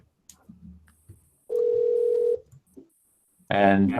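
A telephone line gives a steady dial tone for about a second amid a few short beeps, then a voice answers loudly at the end.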